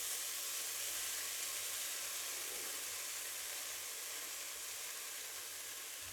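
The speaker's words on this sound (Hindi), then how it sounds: "अब हम इसमें भूनेंगे खोआ" Khoa milk solids roasting in a pan over a low gas flame, a steady soft hiss and sizzle that stays even throughout with no talk.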